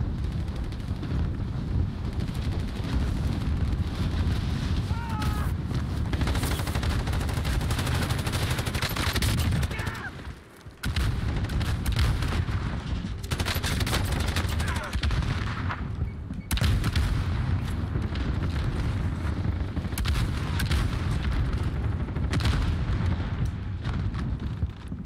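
Dense, continuous video-game gunfire from a VLK Rogue shotgun and other weapons, loud and sustained across the whole stretch with heavy blasts and rattling shots, a brief dip near the middle, no talking.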